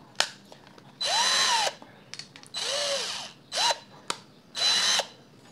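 An INGCO cordless drill runs in reverse mode in four separate bursts of whining motor, each winding up and down, with brief clicks between them in an otherwise quiet room.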